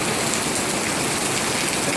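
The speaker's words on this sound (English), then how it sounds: "It's raining. Kona town finally got some rain." Heavy rain pours down in Kailua-Kona, Hawaii, a loud, dense, unbroken hiss of water striking surfaces nearby.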